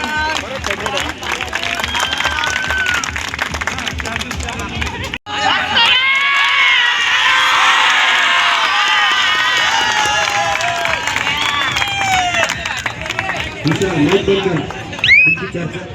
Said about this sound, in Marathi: टाळ्या वाजवा टाळ्याची कमतरता करू नका